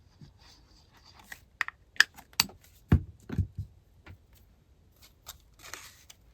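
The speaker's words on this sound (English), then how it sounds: "And I definitely wanted to cut out these images" Scissors cut images out of coloring book pages for a junk journal, making a series of short, sharp snips and paper rustles, close and fairly quiet, with gaps between cuts.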